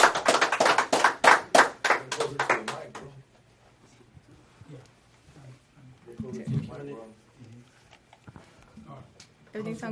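A small group in a radio studio claps briskly for a singer in a short, close burst of distinct handclaps that stops after a few seconds, followed by quiet murmuring and talk.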